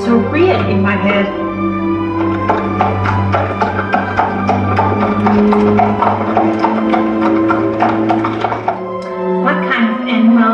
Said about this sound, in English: It must be a horse.